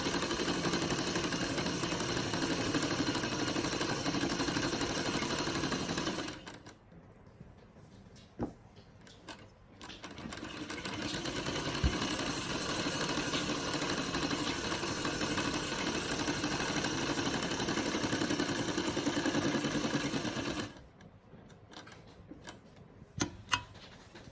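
A sewing machine stitching a lady's kameez, its fast steady mechanical whirr running in two long bursts separated by quiet pauses with small clicks and handling noises.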